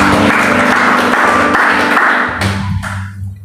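A congregation at a church service in a Jakarta apartment breaks into a loud burst of applause that fades out toward the end.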